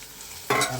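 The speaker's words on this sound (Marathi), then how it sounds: "आता टोमॅटो टाकला बघा." Tomato dropped into a hot pan bursts into a sudden, loud, close sizzle after a brief quiet moment, then keeps hissing steadily.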